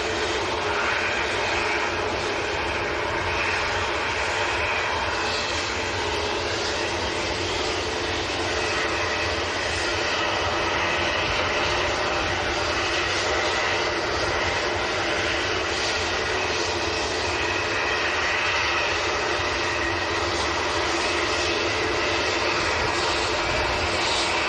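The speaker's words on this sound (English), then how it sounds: "I think the TUI that's been waiting to start its engines" A TUI airliner starting its jet engines at Manchester Airport, a continuous broad roar with a rising whine that stays loud and steady throughout.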